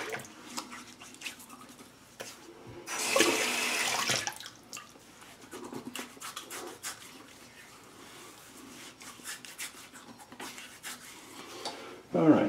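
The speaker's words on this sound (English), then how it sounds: "just wet the face a little bit" Tap water runs into a bathroom sink as a face is wetted before shaving, a steady splashing hiss that swells in one loud burst and returns in softer gushes, with intermittent drips and handling noises close by.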